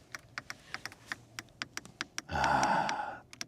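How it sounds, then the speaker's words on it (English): A rapid series of sharp plastic clicks from the manual climate control buttons of a Mercedes-AMG GLE 63 S Coupé, followed by a short burst of airy blowing noise. "Still with the manual climate unit, also once again with nice clicking sounds."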